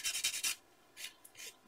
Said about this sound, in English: Again, I need to sand off those little,